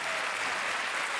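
An audience claps steadily and densely throughout a short stretch at a gathering opening, loud and continuous applause without pauses.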